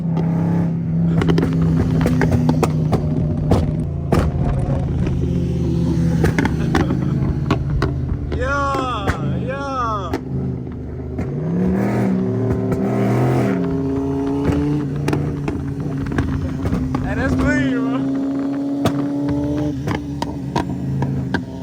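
A motorcycle exhaust with a burble tune, heard nearby on a street, revving with crackling pops over steady traffic and car engine noise, with people talking at times.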